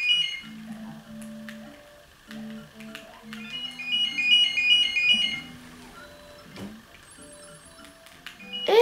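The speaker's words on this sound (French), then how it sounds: "Et le téléphone qui est juste à côté" Electronic telephone ringtone in the Yoshi's Island video game, repeated chiming ring bursts over bouncy game music and effects, fairly loud with no speech.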